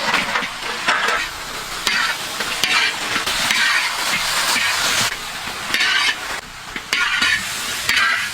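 Chicken frying in a pan for Sprite fried chicken while being stirred, a loud continuous sizzle and hiss broken by repeated scraping and clattering stir strokes.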